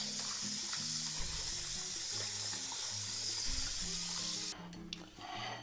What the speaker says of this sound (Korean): 배추를 씻어 오겠습니다